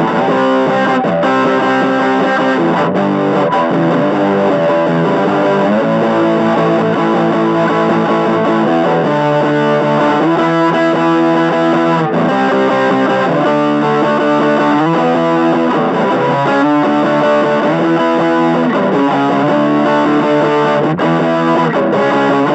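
Heavily distorted electric guitar, a Vintage V100AW on its bridge pickup, plays chords and riffs continuously, bright and loud, with a thick, saturated tone and no voices.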